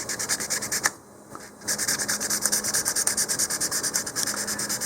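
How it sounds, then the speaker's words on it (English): Steady, rhythmic back-and-forth rasping of sandpaper dry-sanding model rocket fins, close by, with a brief pause before the quick strokes resume. "Okay, so that's just dry sanding."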